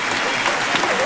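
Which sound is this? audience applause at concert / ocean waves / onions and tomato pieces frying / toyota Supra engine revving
audience applause at concert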